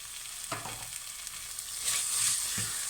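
Vegan yogurt spooned into a pan of mushroom curry sizzles and fries steadily, with a few soft scraping stirs of a spoon punctuating the hiss, close and fairly quiet.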